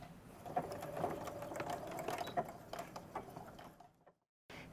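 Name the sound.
sewing machine reinforcing stitches on backpack pocket lining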